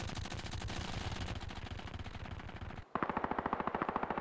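Rapid bursts of suppressed automatic gunfire in a video game rattle steadily, then after a brief pause a second suppressed weapon fires in a quicker, sharper, evenly spaced burst.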